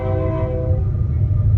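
A train passes close to a home, sounding its horn in one loud, steady, sustained blast over a deep rumble of rolling wagons.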